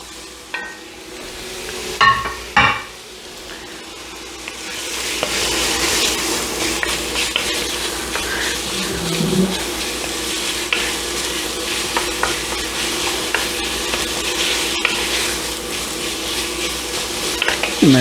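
Chunks of stew meat sear in a chili pot, producing a sustained close sizzle and frying hiss as a spoon scrapes and stirs them around.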